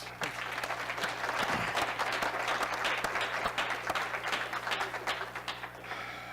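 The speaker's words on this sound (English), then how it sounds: "So let's give all these people a round of applause." Attendees at a staff meeting give a sustained round of applause, a thick, even wash of many clapping hands that tapers slightly toward the end, heard from within the room.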